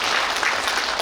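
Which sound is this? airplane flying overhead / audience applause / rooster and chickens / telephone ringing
audience applause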